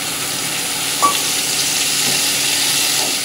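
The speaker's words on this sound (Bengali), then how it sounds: "এই দেখো ভেজে রাখা রুই মাছ আর এই ধনেপাতা কাঁচা লঙ্কার সাথে একবারে ভালো করে কষিয়ে নেব" Fried rohu fish being stir-fried with coriander and green chili paste, a loud, dense, continuous sizzle close by with faint stirring movements underneath.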